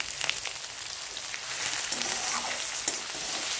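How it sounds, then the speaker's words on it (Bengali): Potatoes frying in hot oil that was just used for frying kofta, giving a steady close crackling sizzle with scattered sharper pops throughout. "ওই তেলে আলুগুলো দিয়ে দিচ্ছি"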